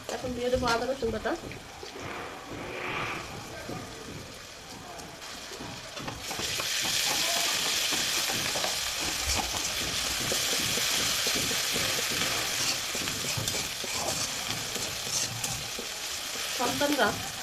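Ginger garlic paste hits frying onions in oil for chicken biryani: a quieter stretch with a voice and pan sounds, then a sudden loud, steady sizzle that carries on with stirring clatter.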